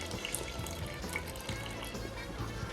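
Beer wort streams steadily from the tap of a brewing vessel during an IPL brew, a continuous splashing, trickling flow with no voices.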